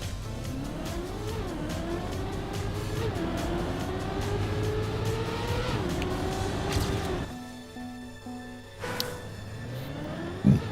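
Race car driving and drifting in the video game Trackmania: a steady, loud engine drone rises and falls with revving and gear changes, then cuts to a quieter idle-like hum with a brief sharp burst near the end.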